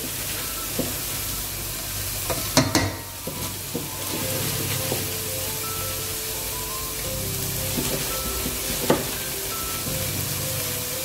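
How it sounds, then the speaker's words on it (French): Chopped chives frying in a hot pan give a steady, close sizzle with a few brief scrapes and knocks of stirring, and no voices. "J'aime bien mettre mes cives que j'ai hachées"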